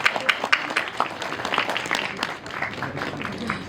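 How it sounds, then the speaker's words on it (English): A burst of crowd applause and scattered clapping at an interns meet, fairly close, with some cheering mixed in. "Can we have a huge round of applause first?"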